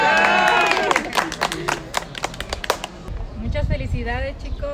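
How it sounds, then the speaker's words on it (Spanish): A crowd breaks into brief applause at a 2021 graduating class celebration, scattered claps rising between voices, with people talking before and after the clapping. "¡Fuerte el aplauso!"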